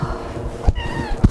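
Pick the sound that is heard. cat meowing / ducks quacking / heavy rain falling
cat meowing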